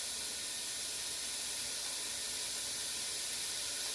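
Italian sausage browns in a pot with onions and garlic, giving a steady, even sizzling hiss that fills the scene without pause.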